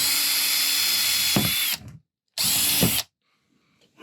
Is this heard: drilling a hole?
yes